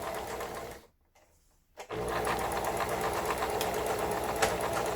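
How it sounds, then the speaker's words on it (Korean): A roughly 30-year-old Lion home sewing machine, just repaired, runs and stitches fabric with a loud, steady, rapid mechanical whirr. It starts briefly, pauses for about a second and then runs without a break, close to the microphone. "이렇게 박음질이 잘 된다는 게 놀랍습니다."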